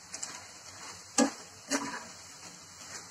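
Crispy raw banana chips crunch in a few sharp, close snaps and crackles over a quiet hiss, two louder bites standing out amid soft rustling.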